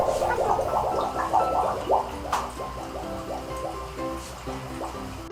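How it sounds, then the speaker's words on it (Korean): Air bubbling and gurgling out of an aquarium external filter's outlet pipe held underwater, a steady close run of wet glugs and pops with no talking. "출수구를 물속에 넣었을 때 공기가 뽀글뽀글 하고 나오면 제대로 물이 차오른다는 얘기예요"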